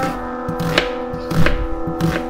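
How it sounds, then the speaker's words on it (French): An onion is cut with a knife on a board, a handful of close, distinct chopping knocks spaced unevenly over a faint background hum, with no voices. "on va couper l'oignon."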